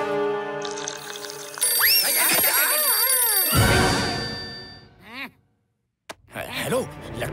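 A cartoon telephone rings in a series of bright, warbling electronic tones, loud and close, with a short silent gap before the ringing resumes.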